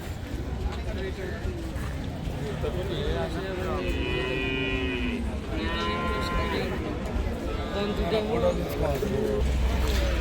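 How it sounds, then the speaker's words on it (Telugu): Buffaloes and cows at a busy cattle and buffalo market moo repeatedly, several drawn-out calls at moderate distance over a constant crowd murmur, with people talking throughout. "ఇది ఇక్కడ చూసినట్టయితే గేదెలని ఆల్మోస్ట్ అయితే ఒక 100 గేదెల పైనే ఉన్నాయి."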